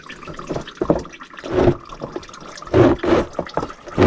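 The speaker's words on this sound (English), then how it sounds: "Make sure our oil pan is underneath it. And we're just going to let it drain for a second there." Engine oil drains from the oil pan of a 2003 GMC Sierra 4WD with a 4.8L engine, coming as soft, uneven liquid splashes and gurgles in short bursts close by.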